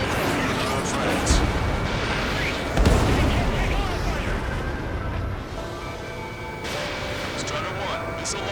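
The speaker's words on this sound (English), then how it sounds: "Strider 1, missile launched." A fighter jet fires a missile in Ace Combat 7: Skies Unknown, a whooshing, booming burst over continuous jet roar. Radio voices talk over the sound.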